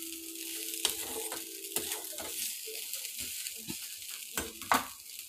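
Leftover rice being stir-fried and reheated in a pan, with a faint sizzle under a series of soft scraping, tossing strokes of a spatula at an irregular pace.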